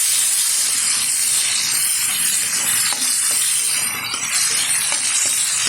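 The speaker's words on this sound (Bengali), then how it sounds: "চিনাবাদামটা একটু নেড়ে ফেলে নেবো তেলের সাথে।" Fried peanuts being stirred in hot, sizzling oil in a pan while cooking a banana-blossom dish with shrimp, a steady loud hiss with faint scraping stirs throughout.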